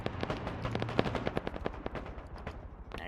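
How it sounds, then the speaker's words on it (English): Rapid automatic gunfire and heavy explosions from an airstrike in the Arma military wargame, a dense stream of close, sharp shots with booming blasts throughout, no talking. "Now you're seeing that airstrike also come in."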